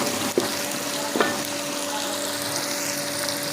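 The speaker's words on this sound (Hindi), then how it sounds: "टमाटर को हम अच्छे से फ्राई करेंगे।" Tomatoes frying in a pan, a steady close sizzle with a couple of light utensil knocks early on, no talking.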